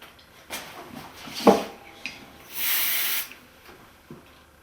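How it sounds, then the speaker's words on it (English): A short burst of hairspray from an aerosol can misted onto the ends of a prom updo, a brief hissing spray lasting under a second amid light handling clatter and small taps. "spray some hairspray on the ends of it"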